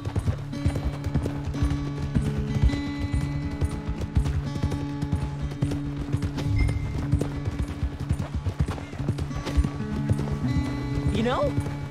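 Rhythmic horse hooves clip-clop steadily throughout in Red Dead Redemption 2, over a busy backdrop of game music and voices, with a brief whinny near the end.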